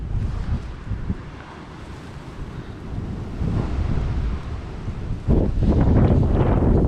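Strong wind buffets the microphone outdoors beside a campfire, a constant low roar that swells into heavier gusts toward the end.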